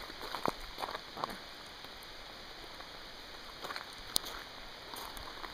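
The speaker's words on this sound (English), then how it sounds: "Rain." Soft patter of rain with scattered drips and a few sharper drops landing nearby, steady and fairly quiet outdoors on a rocky path by an old railway in Algonquin Park.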